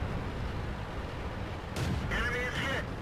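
A tank cannon in World of Tanks fires once with a muffled boom and rumbling tail, set against steady game background noise and fairly faint.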